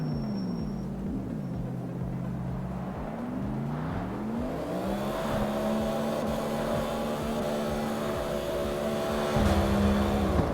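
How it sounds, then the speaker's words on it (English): A car doing a burnout on race tires in CarX Street: the engine revs and holds high over a whirring, screeching tire spin, with pitch shifts as revs climb and a louder surge near the end. "These tires wear out real quick when you do a burnout."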